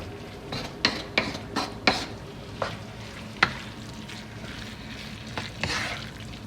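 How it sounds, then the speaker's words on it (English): A spoon stirs beef and melting cheese empanada filling in a pan, with soft sizzling throughout and a run of sharp utensil scrapes and clinks against the pan, loudest early and then spaced out. "then you're going to mix it until it's melted"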